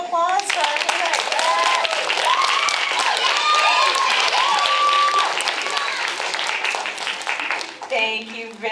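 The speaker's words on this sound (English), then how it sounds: "a round of applause for our playwright." Lively audience clapping at a young playwrights' festival cold reading, steady and full for several seconds, with children's voices and cheering mixed in over it, then tapering off as it nears the end.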